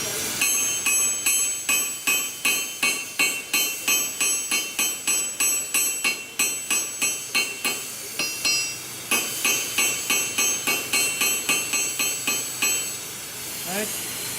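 Hammer blows on hot steel as a blade is forged, a steady run of sharp metallic strikes, two or three per second, ringing close and loud, with a short pause midway and faint hissing between strikes.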